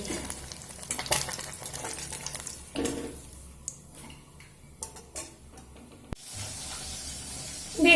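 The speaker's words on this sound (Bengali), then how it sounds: "দেখুন ওদিকে তো মাছ ভাজা হচ্ছে" Small mourala fish frying in hot oil in a home kitchen, a soft crackling sizzle with scattered ticks and spatters, quieter in the middle and swelling again toward the end.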